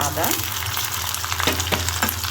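Ginger sautéing in hot oil with deep-fried brown onions for a trotter curry, a steady close sizzle with a few scraping stir strokes cutting through near the end.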